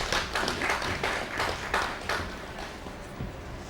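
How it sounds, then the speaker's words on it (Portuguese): An audience at a Mozambican education event gives the minister a round of applause, quiet and somewhat distant, with scattered uneven claps that thin out and fade toward the end. "Uma salva de palmas à senhora Ministra"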